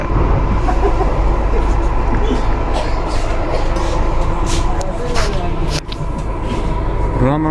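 Inside a nearly empty Delhi Metro train at Kailash Colony, a steady loud rumble of wheels and motors carries on with rattling and a brief squeal, and a voice speaks over it.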